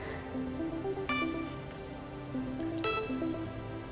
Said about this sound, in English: Add 2 cups of organic whole milk.